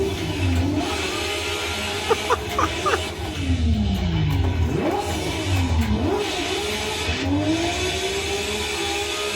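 Drift cars at the Hampton Downs circuit rev and accelerate past, engines rising and falling in pitch through several sweeping passes, loud and fairly close, with no talk over the noise.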